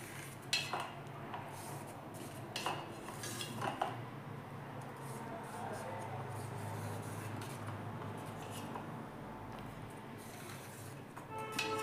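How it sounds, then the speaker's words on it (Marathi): A knife cuts a sheet of raw-mango papad into squares on a plate, producing soft clinks and scrapes against the dish over a faint hiss, with no talk. "मी आता याला असं चौकोनमध्येच कट करणार आहे."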